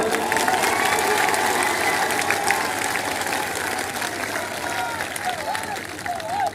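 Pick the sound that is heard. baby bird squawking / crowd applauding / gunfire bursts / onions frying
crowd applauding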